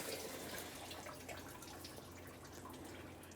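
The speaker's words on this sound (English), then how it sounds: "Let's put our coolant collection bucket under here. A little bit more coolant out of there." Coolant drains from the radiator of a 1994-2002 Dodge Ram 2500 into a collection bucket, a faint, steady trickle with light splashing and drips that carries on for several seconds.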